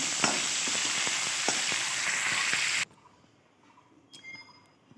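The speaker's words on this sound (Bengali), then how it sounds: "বিনস আর রাঙা আলুটাকে একসঙ্গে একটু কষিয়ে নামিয়ে রেখে দেবো" Beans and sweet potato sizzle and crackle in a hot wok with scraping stirs for about three seconds, then the frying cuts out to near quiet broken by a couple of faint clicks and a final knock.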